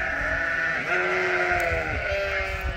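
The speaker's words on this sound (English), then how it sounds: "it in fact is a place of sheep" Several sheep bleat in a livestock barn, their wavering calls overlapping continuously at close range with no talk.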